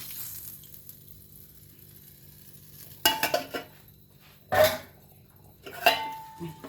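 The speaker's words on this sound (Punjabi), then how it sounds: "ਹੁਣ ਆਪਾਂ ਇਧਰ ਦਹੀਂ ਦੇ ਵਿੱਚ ਲਾ ਦੇਾਂਗੇ ਤੜਕਾ" Hot tadka of cumin and turmeric poured into yogurt for raita, giving a few short sizzling bursts at close range, separated by quiet stretches.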